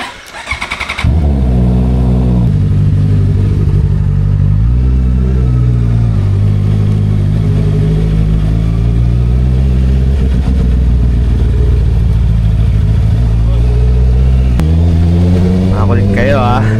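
Motorcycle engine starting up, then revving and accelerating with rising and falling pitch through several gear changes, loud and close, with wind rush in the background and a final throttle surge near the end.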